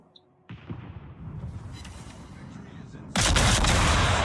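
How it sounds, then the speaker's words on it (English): Naval guns fire in the World of Warships video game: after a brief quiet, a heavy boom rolls into a sustained rumble, then a second, louder blast hits and roars on. A voice may speak faintly underneath. "These are supposed to be some of the most accurate guns in the game."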